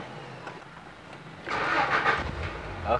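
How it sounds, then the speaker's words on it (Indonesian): A carbureted 1990 Honda Accord Maestro engine cranks and catches, a louder broadband engine burst arriving midway after quieter idle-like rumble, close and alone without talk. "Saya coba starter dulu."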